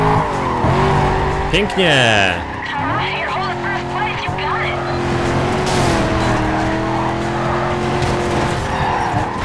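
Engine of a Chevrolet Corvette race car in Need for Speed Carbon revs hard at full throttle, with rising and falling engine tones and squealing tires throughout, while someone speaks briefly over the loud, continuous roar.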